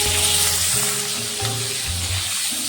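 Chopped tomatoes hit hot oil that already holds fish-frying oil, dried red chilies and black cumin, giving a loud, steady sizzle with bursts of crackle throughout, close and with no talking.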